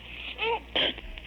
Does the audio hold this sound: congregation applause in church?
no